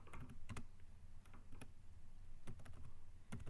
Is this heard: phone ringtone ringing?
no